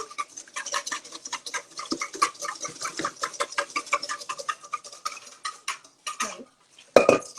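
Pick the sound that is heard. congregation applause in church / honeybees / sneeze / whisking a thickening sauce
whisking a thickening sauce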